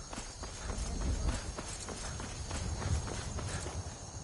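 Horse hooves clip-clop at a steady walking pace in the video game Skyrim, moderately close, with a faint background hum.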